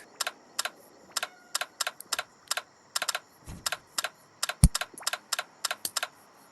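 Crisp, close clicks of computer keyboard buttons tap out in an irregular but steady rhythm, mostly alone in a quiet room with one faint thump.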